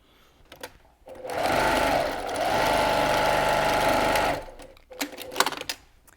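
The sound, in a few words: sewing machine stitching reusable snack bag lining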